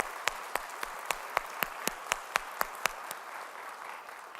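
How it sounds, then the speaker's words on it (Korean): Sharp, evenly spaced handclaps, about a dozen in a steady rhythm, ring out over a soft background wash as a church congregation applauds during Sunday worship, then stop toward the end. "우리 찬양을 받으신 주님께 영광의 박수 올려드리시겠습니다."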